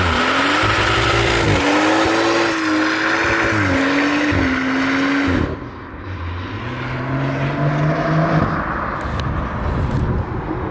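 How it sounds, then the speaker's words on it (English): BMW M140i fitted with a Wavetrac limited slip differential doing a burnout on a private road: loud, close engine revving with rising and falling pitch, then a brief dip and a sustained rasping roar as the tyres spin. "I just want to give you guys a little burnout just to show you what happens when you fit one to an M140i"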